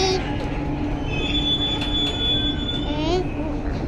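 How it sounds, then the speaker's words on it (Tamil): A Chennai Metro train runs along the track with a loud steady rumble, squealing wheels and high whining tones, sounding close and continuous throughout. "சென்னை மெட்ரோ."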